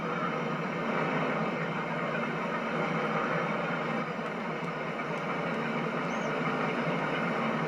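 A harvester and tractor in a farming video game run with a steady, broadband engine drone, an unbroken mid-level hum with no speech over it.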